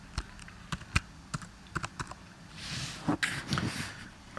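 Someone types a name on a computer keyboard: a string of separate, crisp key clicks, close and fairly quiet, followed by a brief flurry of faster keystrokes and a soft rustle.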